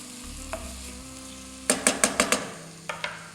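Tomatoes tipped into a sizzling pot for red bean and tomato soup, a quiet hiss giving way to a quick run of five or six sharp scraping stirs, then two more scrapes near the end.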